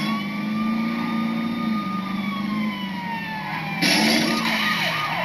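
A police siren wails in Saints Row 2, a loud, steady rising-and-falling tone over engine noise that jumps louder and brighter near the end as the car closes in.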